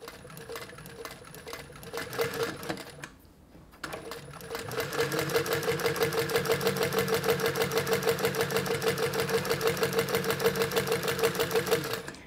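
An industrial sewing machine fitted with an edge foot and edge guide stitches a long handbag strap. After a brief pause it settles into a steady, rapid, close-up stitching rhythm that runs to the end.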